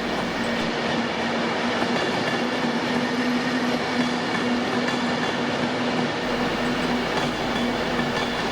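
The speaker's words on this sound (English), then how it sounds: "Another Avanti train arrives from the south" An Avanti train pulls into Carlisle station on a strike-hit day, a loud, steady rolling rumble with a sustained low hum running throughout. No one speaks.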